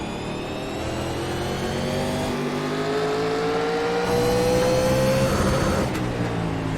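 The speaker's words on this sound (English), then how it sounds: "So Couch hitting the rev limiter there in turns 1." A race car engine in the iRacing sim, on the Eldora or Charlotte tracks, holds a high, steady, rising whine as it runs up against the rev limiter, loud and continuous with no talking.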